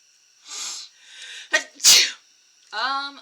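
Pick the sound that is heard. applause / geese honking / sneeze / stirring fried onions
sneeze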